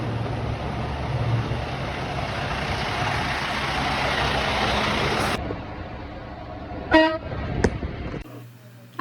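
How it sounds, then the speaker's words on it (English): A truck horn honks in a couple of sharp blasts over a steady engine rumble at a truck driving school, then the engine noise cuts off. "So now we can go honk the horn"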